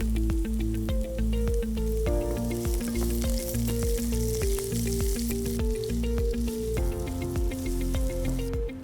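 Onions sizzling and frying steadily in a hot pan of spiced oil for a miso prawn biryani, a close, continuous crackle with small pops throughout and no talking.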